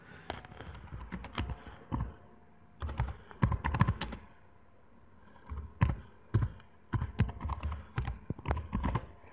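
Bursts of computer keyboard typing while entering a map title in Google Maps, quick clattering keystrokes in several clusters separated by short pauses, close and fairly quiet, with no voices.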